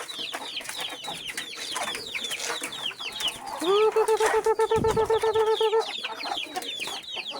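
Chickens and pigeons being fed mixed poultry feed, a busy chorus of near clucks and calls with a strong repeated chicken squawk in the middle, over continuous background murmur.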